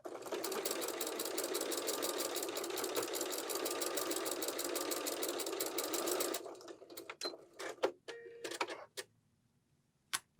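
A sewing machine stitches quilt block seams in a fast, even run of rapid needle strokes for about six seconds, then stops, followed by a few scattered clicks and short bursts of handling.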